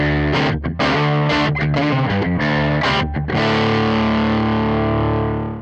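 Electric guitar played through a modelled amp with a 410 Tweed cabinet and an angled SM57 mic, loud driven chords and a few picked notes, ending on a long sustained ringing chord that slowly fades.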